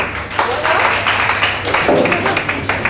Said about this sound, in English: Maybe he deserves a round of applause.